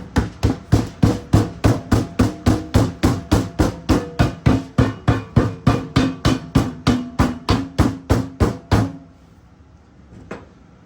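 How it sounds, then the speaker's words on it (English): A plastic hammer strikes repeatedly while sealing a nozzle and bulkhead mix, about thirty sharp, evenly spaced knocks in a steady fast rhythm, close and loud, then the tapping stops, followed by near silence and one last faint tap. "Plastic hammer, because we don't allow sparking materials."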